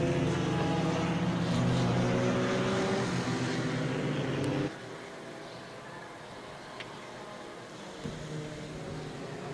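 Classic race car number 20 driving around a circuit during a vintage touring-car race, a steady engine drone that drops sharply to a quieter, more distant hum halfway through.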